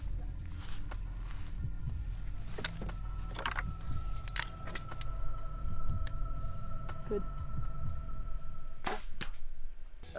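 Arrow released from a bow at a big bear near a camp in the wild, a brief sharp whoosh and impact amid outdoor rustling, jangling and scuffing, with a tonal hum running through.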